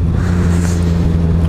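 A motorcycle engine runs steadily close by, a continuous low rumble with a slight rise in revs, loud and unbroken with no talk over it.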